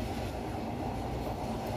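A passenger train running into Kamalapur railway station in Dhaka gives a steady, low rumble of wheels and carriages, continuous and fairly quiet with no voices.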